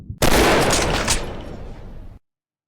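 A single heavy gunshot from a sniper rifle in the mobile hunting game Hunting Sniper, loud and close, with a long rolling boom that fades out and then cuts off to silence.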